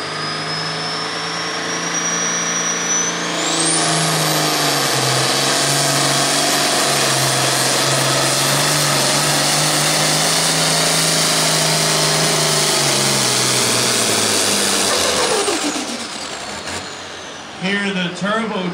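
A 9,000 lb pro farm pulling tractor roars at full power down the track, a loud sustained high-pitched turbo whine that climbs, holds, then drops off as the turbo chatters near the end, with an announcer talking over it.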